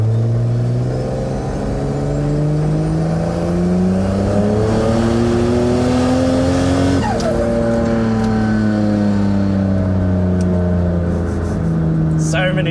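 A turbocharged VL wagon running on E85 drives along with its engine droning and rising and falling in pitch through the revs, loud and steady, while people talk inside the car.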